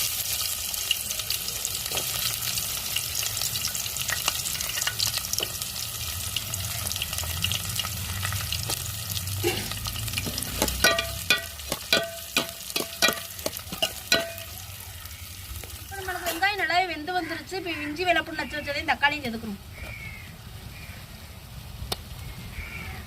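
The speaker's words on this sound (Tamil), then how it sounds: "இப்போ சின்ன வெங்காயம் வெட்டி வைத்ததையும் மூணு பச்சைக்காயும் சேர்த்துக்கணும்" Chopped shallots and three green chillies hit a pan of curry masala for a Tamil chicken gravy, giving a steady sizzle with stirring scrapes and some running water, with no talk.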